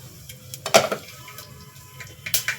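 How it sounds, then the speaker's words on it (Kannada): Mustard seeds splutter in hot oil, giving a few sharp, scattered pops and crackles at low volume, with a brief cluster near the start and another toward the end over a quiet background. "ಈಗ ಸಾಸಿವೆ ಪಟಾಪಟ ಅಂತ ಸಿಡಿಯಾಕತ್ತವ"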